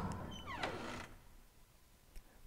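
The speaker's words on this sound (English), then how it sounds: "The door's been opened." A door creaks open in The Last Door, a point-and-click horror game, with a single short sliding, creaking sweep up front that fades into a quiet room with a faint tap near the end.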